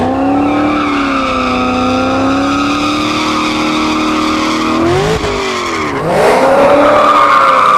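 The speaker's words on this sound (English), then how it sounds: "This Cadillac is sounding really good out here tonight." Cadillac CTS-V drag car at a dragstrip, its engine loud and sustained with a steady high-pitched wail, then revving higher with a sharp rise near the end as it launches and accelerates.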